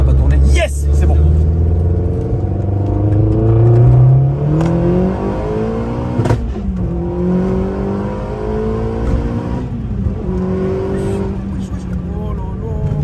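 A car accelerates along a road, its engine note climbing steadily in pitch through the gears, loud and close, with a voice talking over it.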